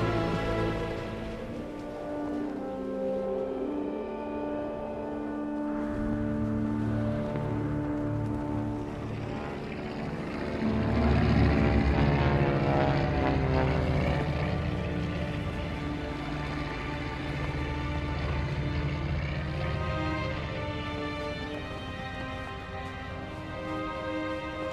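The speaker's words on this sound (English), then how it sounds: "a plane flew over us" A propeller airplane passes overhead, a steady droning engine roar that swells and fades across the sky amid layered, tonal background sound.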